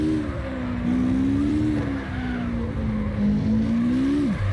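Tires squealing as a car drifts and loses traction in CarX Drift Online, a steady sliding screech over a droning engine that rises and wavers for several seconds before cutting off abruptly.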